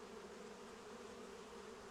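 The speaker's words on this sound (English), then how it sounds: "those are honey hives. You can hear the bees." Bees buzz around honey hives in the video game Crimson Desert, a faint, steady insect drone that continues without a break, with no talking.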